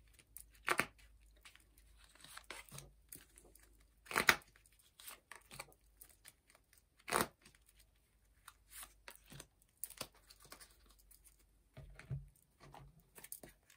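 Tarot and oracle cards are shuffled by hand in faint, irregular bursts of papery riffling and slapping, each sharp flurry separated by quiet gaps.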